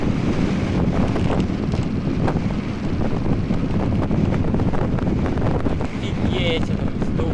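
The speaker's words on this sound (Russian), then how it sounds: "Ветер сдувает прям." Strong wind roars continuously across the microphone while a rider cycles through Tatarstan, the buffeting loud and constant with a voice partly buried beneath it.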